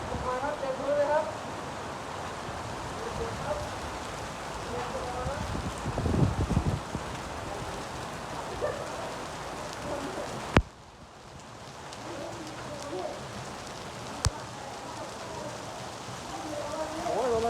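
Hailstones fall in a storm outside a hospital in Kham Cha-i, Mukdahan, a dense steady patter of ice striking the ground with occasional sharp knocks, while people talk over it.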